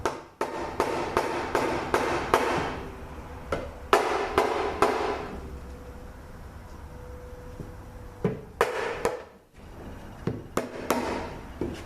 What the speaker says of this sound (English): And we'll just give it a tap.